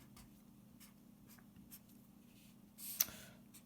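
Hand-drawn marker strokes on a board during a lecture on series and parallel circuits: a few faint, soft swipes spread over a few seconds, then one slightly louder tap near the end, all very quiet over low room hum.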